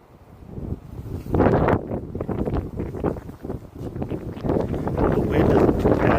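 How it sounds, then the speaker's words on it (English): Wind gusts buffet an outdoor microphone on a cold day, a rough, rumbling roar that swells and fades in uneven waves throughout, fairly close and moderately loud. "They'll light in this kind of wind."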